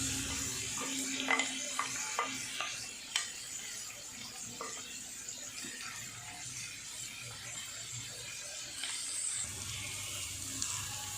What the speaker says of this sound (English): I put the finely chopped onions in it, and now I'm going to wait till it becomes golden brown.